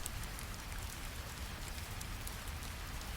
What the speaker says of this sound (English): The rain creates gentle music.